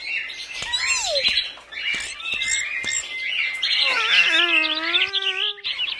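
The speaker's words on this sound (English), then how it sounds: "Tweet, tweet, tweet, sang the canaries." Bright, busy chirping and tweeting from caged canaries in a video game, with quick trills and a few sustained whistled notes, close and fairly loud.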